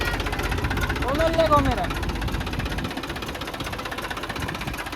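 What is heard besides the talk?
tractor engine running as accelerator is pressed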